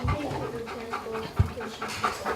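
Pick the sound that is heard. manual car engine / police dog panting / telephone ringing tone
police dog panting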